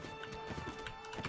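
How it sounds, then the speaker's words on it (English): Cavalry horses charging in Mount & Blade: Warband, a rapid, dense patter of game hoofbeats over a steady ambient bed, with faint voice-like sounds briefly mixed in. "Cavalry can charge now."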